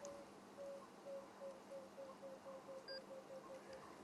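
A distant coucal, the rain bird, repeats a low, hollow hooting note in a steady series, faint against a quiet outdoor safari background with no talking.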